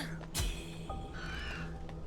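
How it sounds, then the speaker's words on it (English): A crow caws in the dark fantasy action game Wuchang: Fallen Feathers: one harsh, quiet call that fades into a low ambient hum, with a faint hollow tone lingering afterward. "up there you see a bird"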